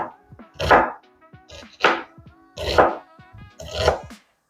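A knife chops picanha beef finely on a board in about five short, sharp bursts of rapid strikes, close and fairly loud, with quiet gaps between.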